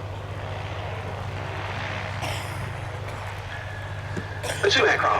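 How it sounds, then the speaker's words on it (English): The engines of two BAC Strikemaster jet training aircraft drone steadily throughout at an airshow, with a rising roar near the end as they turn back in, and a commentator talking over the noise. "The two aircraft then turning back in towards us for the final manoeuvre of their display."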